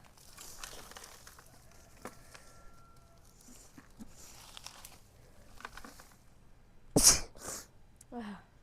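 A person with a cold gives one sharp sneeze near the end, standing out against quiet outdoor rustling and faint background noise.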